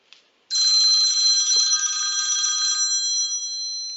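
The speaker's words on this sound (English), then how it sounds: "my phone just rang" A telephone rings loudly and steadily with a bright electronic bell tone, starting abruptly after a brief faint sound and sustaining for about three seconds before tailing off.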